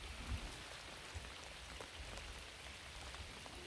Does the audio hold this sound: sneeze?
no